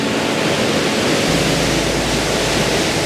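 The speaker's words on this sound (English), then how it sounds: "There's like another waterfall just up there." Loud, steady rush of a waterfall and river rapids fills the whole stretch, a constant broadband roar up close with no talking.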